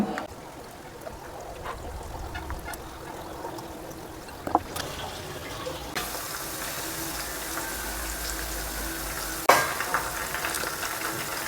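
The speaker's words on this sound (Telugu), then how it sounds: "పీస్ అన్నీ ఎర్రగా వేగేంత వరకు వేయించుకోండి" Chicken pieces for chilli chicken deep-frying in hot oil over a medium flame, a steady close crackle and bubbling with occasional louder clatters of pieces being moved, carrying on alone without talk.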